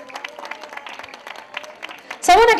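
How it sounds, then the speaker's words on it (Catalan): A burst of applause breaks out at the end, loud and close, following a stretch of someone speaking, at the award ceremony of a women's five-mile race in Valldoreix. "Un fort aplaudiment"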